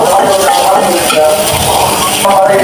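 Chopped onion and ginger frying in a pan for cabbage Manchurian, with a steady close sizzle and crackle throughout and occasional stirring scrapes against the pan.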